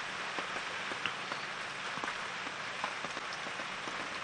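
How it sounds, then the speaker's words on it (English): Steady rain falls on bush at a private game reserve, a dense continuous patter of drops with scattered louder taps, close and even throughout with no voices. "maybe she's going to come feed again now that the rain has slowed down"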